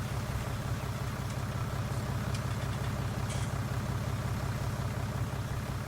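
A flatbed truck engine idling in Farm Simulator 19 gives a steady low rumble that stays even and unbroken throughout, with a few faint clicks above it.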